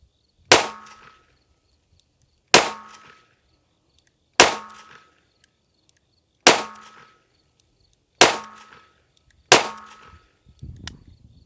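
Six sharp shots from a Kimber K6S six-shot match revolver fitted with a custom spring kit, fired at a range, spaced about two seconds apart with crisp echoing decays and quiet gaps between them.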